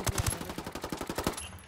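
Rapid automatic gunfire in the game Ghost Recon Ghost War: a quick burst of sharp shots in steady succession, fairly distant and moderately quiet, with no talking.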